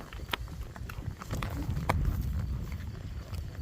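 Horse hooves clop and scrape over stony ground at a walking pace on a lakeside trail ride, with scattered sharp knocks against a rumbling outdoor background.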